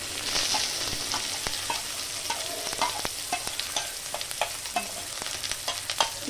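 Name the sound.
onions frying in very hot oil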